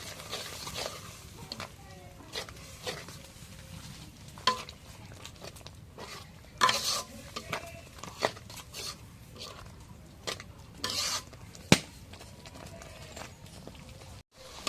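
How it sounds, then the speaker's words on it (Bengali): Spices with turmeric powder stirred in a pan, a scraping spoon giving repeated uneven knocks and scrapes over a soft low sizzle, close and fairly loud with sharper clanks here and there. "এখন মশলাগুলো একটু নাড়া দিয়ে দিই।"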